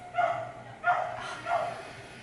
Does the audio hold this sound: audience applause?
no